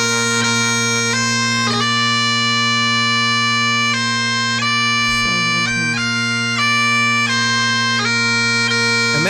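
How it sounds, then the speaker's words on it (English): Bagpipe playing a continuous melody over steady low drones, loud and close, with note changes every second or so and no talking. "have a listen to the sound that the bagpipe is making"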